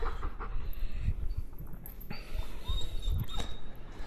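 A dog undergoing aggression training whines in short, faint, high-pitched bursts at close range, mixed with shuffling and panting noise and no talk.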